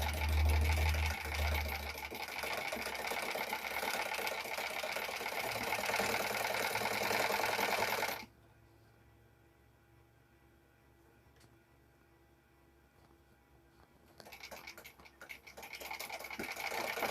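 A sewing machine stitches a blouse in a loud, continuous whirring run of about eight seconds, then falls quiet for several seconds before a second stretch of stitching starts.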